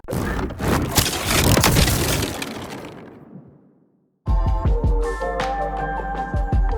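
Designed elemental magic spell effect built from layered transients, whooshes and tails: a dense crashing, shattering burst that swells and decays into silence, then a second loud, tonal, ringing impact with sustained low rumble.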